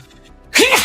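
One sharp, loud sneeze bursts out near the end after a quiet stretch, close to the mic.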